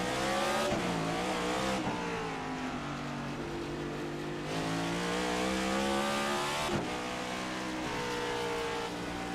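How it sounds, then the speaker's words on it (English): Race cars roar around a city street circuit in Grant Park, heard from close behind a chasing car, engine note loud and continuous with rising and falling pitch through shifts and corners, no talking. "so you can really hear the roar of these cars going through the city"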